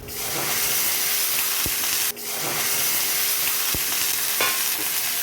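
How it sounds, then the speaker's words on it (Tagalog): Chicken pieces sizzle loudly as they are stir-fried in a pot for tinola, a dense continuous hiss with a couple of sharp utensil knocks and a brief dip partway through. "Isunod po ang chicken at palambutin."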